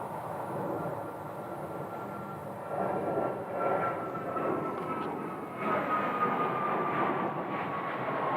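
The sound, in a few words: American Airlines airliner at Sky Harbor airport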